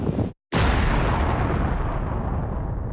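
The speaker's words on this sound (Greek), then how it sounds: "Μετρήσαμε πάνω από 10 εκρήξεις στον ουρανό αυτή τη στιγμή." Hezbollah rockets intercepted by Iron Dome in the sky over Israel: a loud blast, a brief silent break, then a heavy, sustained booming roar that slowly fades.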